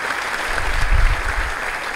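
A hall audience applauds at a university lecture, a short burst of dense clapping with a low rumble swelling in the middle, steady and fairly loud throughout.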